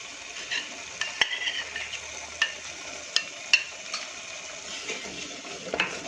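A spoon stirs yoghurt batter into a spiced gravy for cabbage kofta in a pan over a full gas flame. Soft sizzling runs under scattered scrapes and sharp taps of the spoon against the pan.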